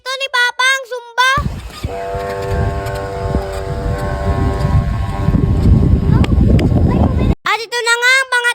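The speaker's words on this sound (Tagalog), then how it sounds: "At ito na nga ang pangatlong talang namin. At sa oras nga na yan, napakalakas na talaga ng hangin." Strong wind roars in a continuous broadband rush during a homemade kite's test flight at a housing construction site, with a steady tonal whine running through it and voices talking before and after.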